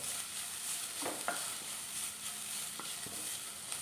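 Grated coconut and ripe pumpkin fry in ghee for a sweet dish, giving a steady close sizzle with a few faint scrapes of stirring and no voices.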